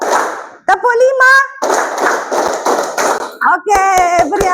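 Classroom counting clap game led by a teacher, with bursts of sharp, close hand claps grouped in quick runs between stretches of spoken instructions.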